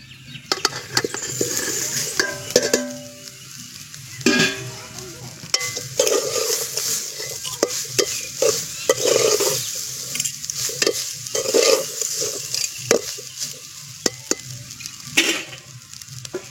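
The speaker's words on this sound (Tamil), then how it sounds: "இப்போ உதுத்து வச்சுருக்க புட்டை இதோட கொட்டி கலந்துடலாம்." Crumbled moong dal puttu is stirred into a pan mixture, with repeated spatula scrapes and light sizzling in an irregular rhythm, close and fairly clear.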